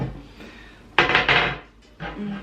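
A metal pot clatters and scrapes on a kitchen counter or stove as water is set up for pasta, a few sharp close knocks and rattles in a quiet room.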